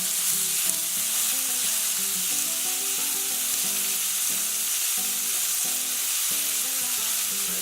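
Steak sizzles and fries steadily in a hot pan for a ginger steak and peppers dish, a constant loud hiss with no voices.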